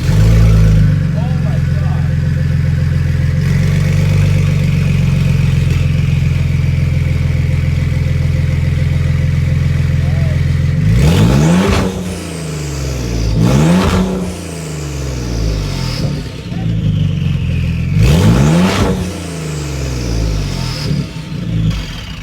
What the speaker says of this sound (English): We're going to be testing the sound. Completely straight piped. Only catless equal length downpipes and no mufflers even.